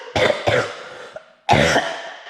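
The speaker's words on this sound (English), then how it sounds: "You just coughed on me" A man coughs close by in a farm workshop, two harsh coughs in quick succession, a short pause with a small throat noise, then a third loud cough.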